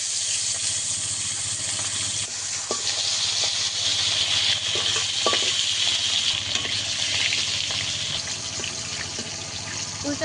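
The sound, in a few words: fish frying in hot oil in a wok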